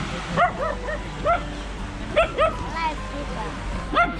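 A dog at the beach gives a string of short barks and high yips in clusters, close and fairly loud, over steady outdoor noise and surf-like hiss.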